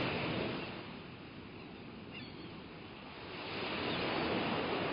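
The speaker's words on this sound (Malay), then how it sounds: "ombak yang dibawa lautan Atlantik Utara ini amat besar dan kuat." Large North Atlantic waves roll onto Iceland's southern coast as a broad, steady roar of surf that dips slightly midway and builds again, heard at a distance with some wind.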